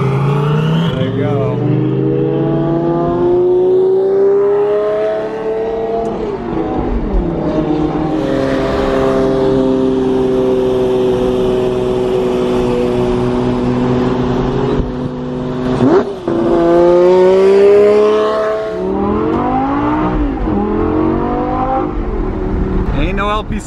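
A Lamborghini LP640 engine revs hard while driving, its tone climbing and dropping through several gear changes, loud and close, with people talking over it.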